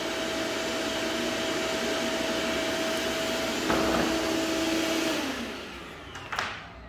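A RIDGID 12-gallon shop vac with the motor on the bottom, rated 1330 watts, roars steadily and loudly up close, then its whine drops away as it spins down, ending with a couple of knocks.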